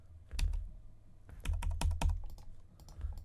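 Quick computer mouse clicks while painting a watercolour effect in Photoshop, a few close, crisp taps in short irregular bursts with pauses between them.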